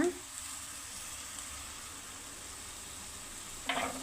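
Chicken fry with garam masala and coriander sizzles steadily in a pan while being stirred, a soft continuous frying hiss with a brief louder scrape of the spoon near the end.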